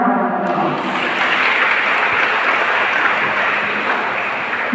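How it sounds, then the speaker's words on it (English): A church congregation breaks into sustained applause after a song, a dense, steady wash of many hands clapping together at even loudness throughout, with no talk over it. "Let us give them a round of applause."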